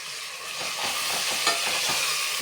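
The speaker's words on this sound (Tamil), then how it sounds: "மொத்தமாக எல்லாத்தையும் நம்ம நல்லா கிளறி விட்டுக்கலாம்." Biryani ingredients with mint are stirred in a pot: a continuous loud sizzle and hiss with repeated scraping strokes of the spoon, close up and with no voices.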